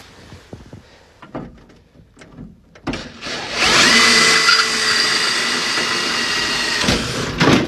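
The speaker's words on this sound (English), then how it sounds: "now we're going to drill that one out" A power drill whirs steadily at high speed for several seconds while drilling out a part on a wagon's window, after some quiet handling noises, then stops briefly and restarts near the end.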